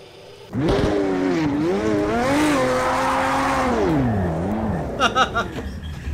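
A race car in a sim racing game screams through a lap, its engine note rising and falling loudly and continuously, with tires squealing and skidding near the end.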